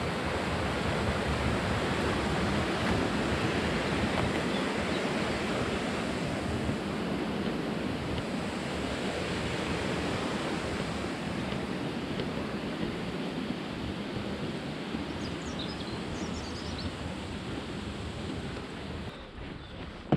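Water from the South Staffs waterworks pours steadily into the River Severn at Hampton Loade, a continuous broadband rushing that stays loud and even throughout with no voices.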